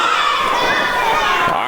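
A hometown wrestling crowd cheers and shouts continuously for Bam Bam Malone, a dense, loud wall of voices with no pause.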